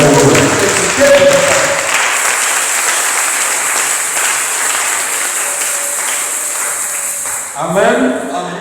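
A French-speaking church congregation at a Sunday service applauds and cheers God's name, a loud sustained wash of clapping and voices that tapers off, with talk resuming at the end.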